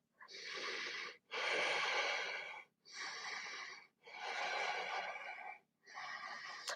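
Slow, deep breaths during a humble warrior yoga pose, with long inhales and exhales alternating with brief pauses, five breath sounds in a steady rhythm, close and clear with no talking.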